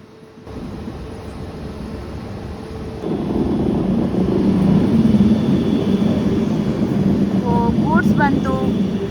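A goods train passes on the opposite track, heard from aboard a passenger train travelling from Bengaluru to Mumbai. A loud, steady rumble swells after a few seconds and holds, with brief tonal notes near the end.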